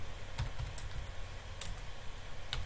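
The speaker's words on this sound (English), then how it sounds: "type in the password" Fingers tap out a password on a computer keyboard, a few sparse, light key clicks at close range against a quiet background, with no one talking.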